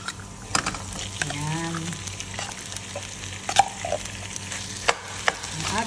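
Corned beef with potatoes frying in a pan sizzles at moderate volume while a utensil stirs and scrapes with intermittent knocks, and a voice briefly speaks.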